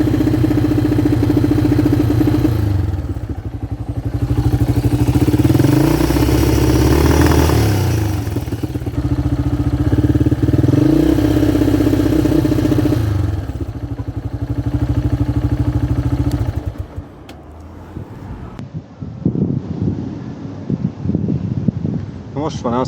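A faulty motorcycle that will not pull properly runs in the Georgian mountains of the Caucasus, its engine droning and rising and falling through revs amid wind buffeting, then cutting to quieter rustling and handling noise near the end.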